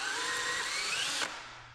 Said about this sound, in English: drill a couple of holes in this tab on the brake lever here